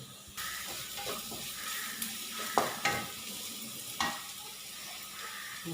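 Whole spices, green chillies and curry leaves hitting hot oil with softened onions, a continuous close sizzle broken by a few loud stirring scrapes and clatters.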